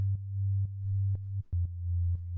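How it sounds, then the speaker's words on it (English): A plain synthesizer sine wave for organic house and techno, a steady low pure tone pulsed in short rhythmic notes with faint clicks at each onset, alone and clean. "if you listen to just the sine wave"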